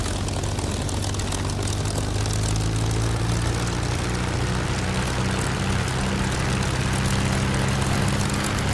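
A warbird's propeller engine runs up to 2,000 RPM, a loud, steady, droning roar with a constant low throb that holds unchanged throughout, no talk over it.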